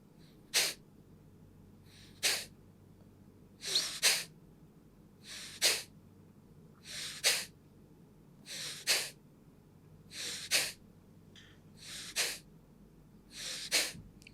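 Kapalbhati breathing, with a dozen sharp, forceful exhalations through the nose at a steady rhythm of about one every second or two. Each is a loud, brief, close burst of air separated by near silence.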